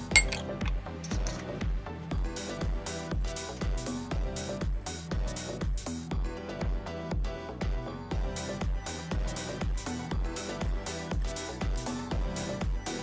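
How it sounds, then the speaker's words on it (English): A whisk clinking rhythmically against a bowl while beating eggs, milk, sugar and cinnamon for bread pudding, fast regular taps repeating steadily throughout, fairly quiet with a light musical backing. "Mix eggs, milk, sugar, and cinnamon together"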